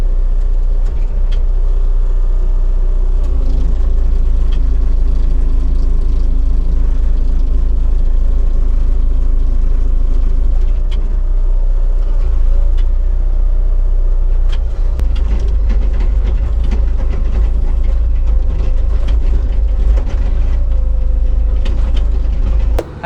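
A Bobcat E37 compact excavator runs steadily, its engine drone loud and continuous throughout, with scattered clanks and knocks over the low rumble.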